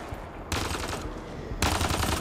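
Rapid automatic gunfire in the sci-fi shooter Mass Effect Andromeda comes in two dense bursts of rattling shots, close and loud, separated by a short lull.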